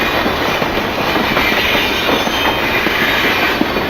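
A toy engine train runs on its rails, giving a loud, continuous rattling clatter with a rhythmic clickety-clack throughout and no voices.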